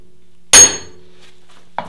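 A single sharp metallic whack of a big hammer knocking out a wheel stud rings out, followed by a brief quiet pause and a smaller second knock near the end.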